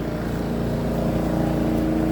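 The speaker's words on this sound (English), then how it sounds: "this guy using a snowblower to move the leaves off his property." Steady droning engine of a snowblower being used to push fallen leaves off a residential property, a constant loud motor hum that holds without pause.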